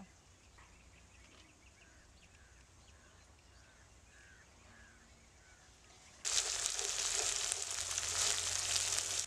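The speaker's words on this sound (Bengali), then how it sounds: "এই মশলাগুলো একসাথে ভালো করে কষাতে হবে" Spice paste mixed with ground poppy seed paste being fried in a pan for a posto pabda fish curry, a faint background hiss that turns into a loud, dense, steady sizzle partway through, close up, with no speech.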